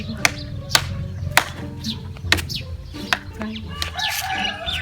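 Chickens squabbling up close, with sharp bursts of flapping wings and scattered clucks and squawks over a steady low background rumble.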